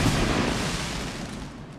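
A bomb explodes in Counter-Strike at a PGL Major Stockholm 2021 match, one loud, broad blast that rumbles and slowly fades, with no talk.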